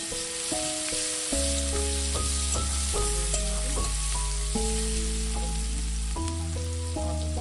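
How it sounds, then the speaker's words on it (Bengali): Chopped onions and black cumin seeds frying in hot oil for a Bengali katla fish curry, giving a steady, close sizzling hiss throughout, with music playing over it. "ওই তেলেই আমরা কালো জিরে ফোড়ন দিয়ে আগে থেকে কেটে রাখা পেঁয়াজ কুচি দিয়ে কিছুক্ষণ ভেজে নেব।"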